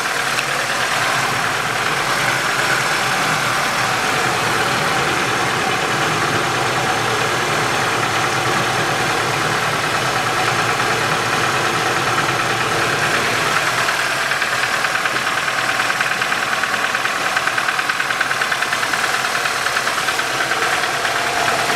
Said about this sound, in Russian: шум пока от двигателя идет. В коробке все тихо.